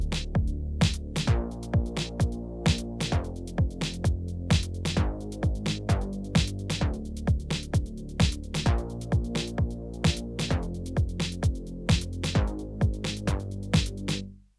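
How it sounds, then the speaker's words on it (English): Electronic beat with a four-on-the-floor kick, snares on offbeats and ticking hi-hats over a long droning bass note, steady and loud with no other parts or voices. "It's just a kick and snare and hat pattern and a long droning bass"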